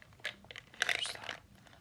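Ice Breakers Ice Cubes gum is chewed close to the mic in a quiet room, giving irregular moist crunches and crackles with a louder burst of crinkly chewing in the middle.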